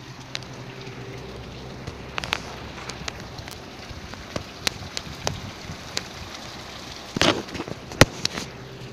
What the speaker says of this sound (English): That's the sound of the rain.